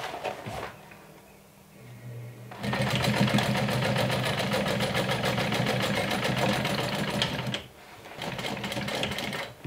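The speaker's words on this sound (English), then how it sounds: "So from the right side I'm going to go ahead and top stitch an 1/8 of an inch away from the edge." A sewing machine top stitching a backpack or crossbody bag an eighth of an inch from the edge, running loud and steady in a long, fast, even stitching burst, with a brief stop and restart near the end.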